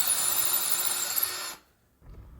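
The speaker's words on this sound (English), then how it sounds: "just widening the other hole to account for the wider metal anchor, the masonry anchor, making this hole a little bit larger for it" A power drill whines steadily while widening a hole in a brick wall for a masonry anchor, then stops abruptly, leaving a brief pause before faint low noise returns.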